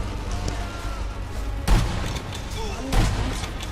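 Two booming sniper rifle gunshots in the video game Sniper Elite V2, roughly a second apart, stand out over a constant low background drone.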